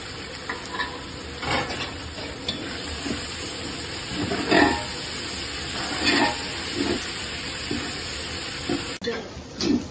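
Ginger garlic paste tempering sizzles and crackles in hot oil while being stirred, a steady close frying hiss with intermittent scraping and clinks, no talking.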